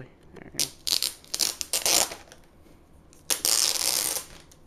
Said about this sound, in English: let's take this plastic off. You can hear it click, probably.